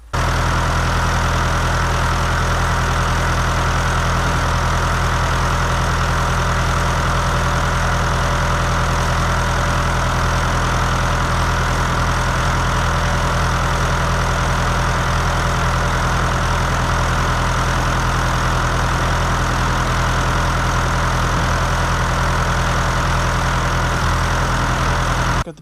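Wood chipper engine running steadily at idle with a belt-driven hydraulic pump off the crankshaft, giving a loud, constant, close mechanical drone with no talking throughout.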